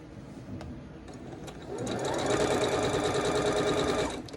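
A sewing machine stitches the last row of a precut quilt block. It is quiet at first, then its motor spins up to a steady, close, rapid whirring hum that lasts until it slows near the end.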